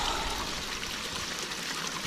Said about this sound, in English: so we got a little multi-sluice running here